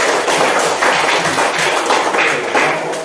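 A class of elementary school students claps together in a classroom, a dense, steady patter of many hands that stays loud and even throughout.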